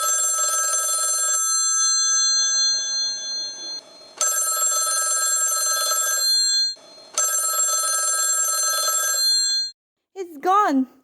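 An old-style telephone bell rings in a radio drama, three long loud rings separated by pauses, after which a voice briefly speaks.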